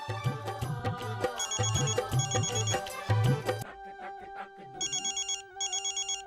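A phone ringtone plays loud and close, starting with a bright musical melody over a beat and then switching to repeated electronic ring bursts in a steady pattern, with no one talking.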